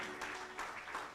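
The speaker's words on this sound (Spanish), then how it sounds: "a la palabra de Dios le damos un fuerte aplauso" A church congregation bursts into brief, hearty applause during a service, a short dense patter of many hands clapping with no speech over it.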